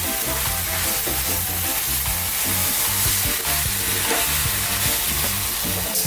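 Prawn noodles stir-frying in a pan over high heat, a dense, steady sizzle with continual scraping and tossing of the spatula close up, no voices.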